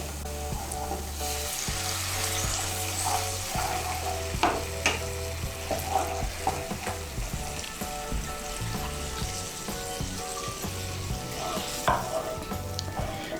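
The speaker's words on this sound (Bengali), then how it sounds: "এখন এর মধ্যে আমি দিয়ে দেব নারকেলের দুধ। আমি এর মধ্যে 1 কাপ নারকেলের দুধ দিচ্ছি।" Coconut milk goes into a frying masala for an egg malaikari and gets stirred, making a continuous close sizzle with repeated spatula scrapes and clinks against the pan.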